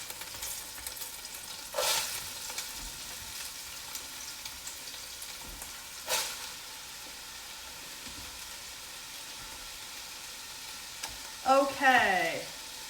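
Carrots and onions sautéing in a pot for Thai chicken soup, a soft continuous sizzle with a few louder scraping bursts as the vegetables are stirred, near and unaccompanied by talk.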